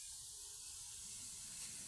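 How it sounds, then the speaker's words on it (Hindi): A pressure cooker hisses while dal cooks on the stove, a steady, fairly faint rush of steam that holds evenly for about two seconds with no other sound over it. "इधर हमारी दाल का कुकर भी जो है वो चल पड़ा है।"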